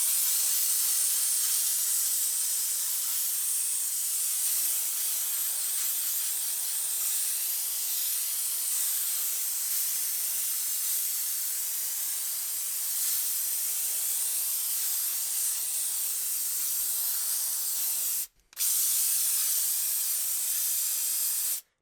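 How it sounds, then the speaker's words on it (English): A handheld steam cleaner hisses steadily while steaming a Golf R's interior car seat, one long continuous spray of steam with a brief cut near the end. "I think I can make do with pretty much just a wet towel and the steamer"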